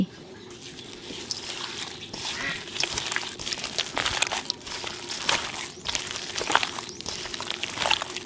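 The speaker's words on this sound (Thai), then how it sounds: "แล้วก็ขยำ เลย" A fish cake mixture with egg, sugar, salt and curry paste, made from Thai silver carp, is squeezed and kneaded by hand, giving repeated wet squelches and slaps in an uneven rhythm, close and alone.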